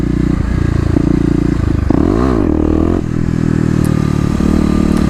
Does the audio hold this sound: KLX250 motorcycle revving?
yes